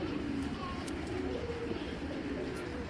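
A racing pigeon coos softly and steadily at low volume, a continuous murmuring call with a faint background hum and no voices.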